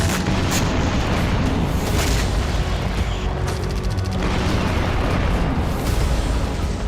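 Explosions from Russian bombing in Ukraine, with loud, continuous rumbling booms and sharp bursts overlapping in a dense, chaotic barrage throughout, no voices heard.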